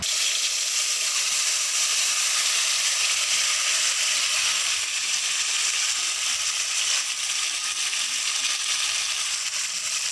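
Cumin and green chili paste sizzle in hot oil with a bay leaf, giving a loud, steady frying hiss that carries unbroken through the whole stretch without talk.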